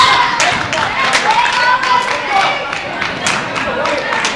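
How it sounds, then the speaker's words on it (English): Women cheer on bowling teams at a match-play invitational in Las Vegas: lively clapping and whoops in a busy bowling alley, mixed with voices talking. "Both teams have their lady counterparts cheering them on."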